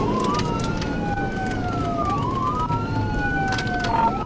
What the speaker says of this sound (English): he activated his lights and sirens, notifying dispatch that he was in pursuit